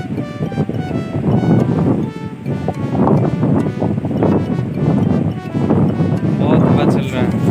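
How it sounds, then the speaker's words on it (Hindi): Strong hot wind buffeting the microphone outdoors at a river ghat, a loud continuous rumbling roar with gusts rising and falling, while a person speaks over it. "बहुत हवा चल रहा है"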